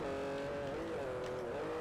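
A Rossion Q1 race car engine in Forza Motorsport 4, a steady, loud tonal drone that holds at a fairly constant pitch with no talking.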